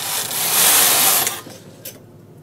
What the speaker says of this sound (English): So now I knit across one row